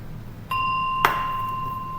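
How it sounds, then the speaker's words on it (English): A meditation bell struck once during Lotus Sutra chanting practice, a clear metallic ding with a bright attack and a long, steady ringing sustain that hangs evenly, close and fairly loud. "ring that bell if you have one"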